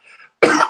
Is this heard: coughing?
yes